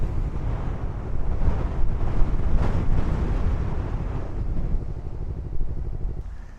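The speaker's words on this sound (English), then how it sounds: "A lot of wind." Strong wind buffets a campsite in Lahangan Sweet, Bali, Indonesia, during a motorcycle camping trip, a steady loud roar and rumble of gusts across the microphone, sustained throughout with no speech.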